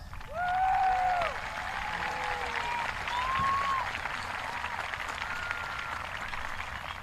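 A graduation-ceremony crowd gives a round of applause for high school teachers and staff. The steady clapping is mixed with a few whistles and cheers and holds at an even level.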